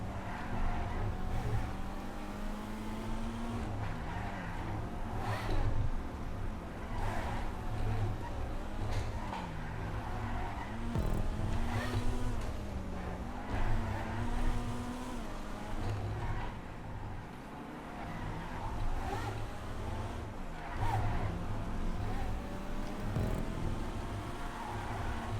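A Flash GT sports car in GTA 5 drives continuously, its engine droning and shifting pitch as it accelerates and revs through a lap, steady and loud throughout with no pauses.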